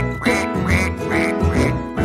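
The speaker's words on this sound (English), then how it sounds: "Mother duck said quack, quack, quack, quack" Four evenly spaced, loud, nasal quacks of a mother duck sound in a children's nursery rhyme song about five little ducks, set in a bouncy rhythm with music underneath.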